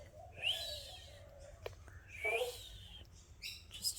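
A person imitates the call of an Australian King Parrot with high, whistled chirps, several rising bursts in a few seconds, fairly clear over quiet outdoor background.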